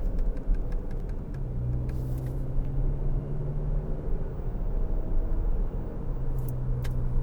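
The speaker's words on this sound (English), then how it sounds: "this car's picking back up speed again" A Jeep Compass Trailhawk accelerating on the road, with a steady low engine and tyre rumble from inside the cabin and a droning tone that rises slightly as speed builds.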